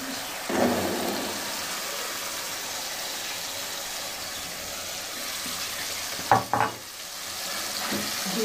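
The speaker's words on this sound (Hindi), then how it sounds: "चनों को अच्छे तरीके से भूनेंगे।" Boiled white chickpeas fry in a pan of masala, giving a steady, close sizzle with occasional stirring scrapes and clinks.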